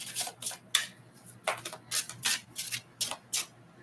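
Soft, papery riffling in quick bursts, eight or so short flutters of shuffled tarot cards close by, with brief pauses between.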